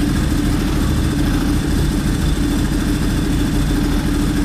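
A Ducati Streetfighter motorcycle engine with a dry clutch idles with a steady, dense low rumble, loud and close, unchanging for the whole stretch with no voices.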